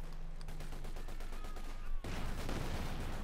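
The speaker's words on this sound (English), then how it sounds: "More artillery fire here" Machine-gun bursts and artillery fire in the strategy game Company of Heroes 2, rapid rattling shots followed by a heavy blast and a denser barrage of explosions, all moderately quiet.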